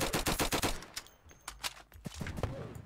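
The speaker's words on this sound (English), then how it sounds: "Now what I have here is a snowball launcher." A snowball launcher firing in the Roblox game Flag Wars during its Christmas update: a quick burst of rapid, punchy shots, then a few scattered, fainter pops, with no one speaking.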